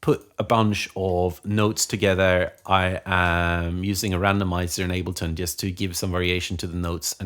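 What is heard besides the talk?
No everyday noise stands out behind the speech.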